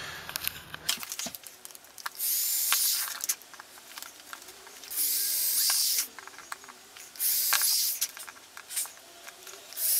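A power drill bores pilot holes for LEDs into soft wood during a guitar build, giving three or four short whining bursts separated by clicks, taps and handling noise.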